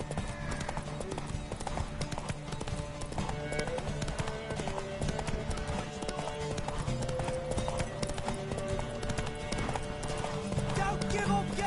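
Horse galloping hard in a race in a video game, a steady rapid clip-clop of hooves running continuously under dense background music and effects, with no break in pace.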